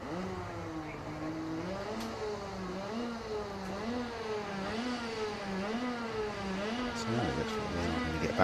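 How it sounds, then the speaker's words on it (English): Several racing kart engines buzz and rev around a club circuit during a kart race meeting, their pitch rising and falling in waves as the karts accelerate out of corners, steady and continuous throughout. "Back racing, I can hear engines"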